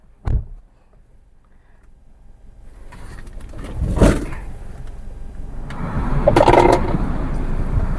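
A 2022 Maruti Suzuki Dzire ZXI running on CNG starts up: a sharp click, a short crank burst, then a rising, steady engine rumble outdoors, with a bird cooing nearby.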